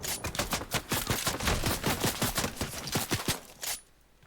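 Rapid video game gunfire in a building match, sustained bursts of sharp, loud shots in quick succession for several seconds before cutting off abruptly into near silence.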